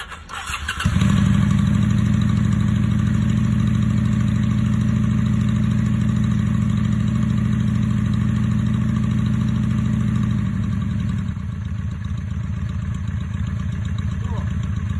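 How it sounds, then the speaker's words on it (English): A carbureted motorcycle engine fires up and settles into a loud, steady, throbbing idle close by, holding for about ten seconds before easing slightly lower, with someone speaking over it. "this is a great time to do a low idle test"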